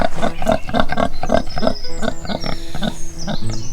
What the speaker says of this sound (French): pour le cochon